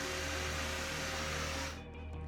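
A vacuum cleaner runs with a loud, steady whine while picking up resin dust from sawing a model kit, then cuts off near the end.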